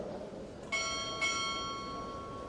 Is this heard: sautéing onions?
no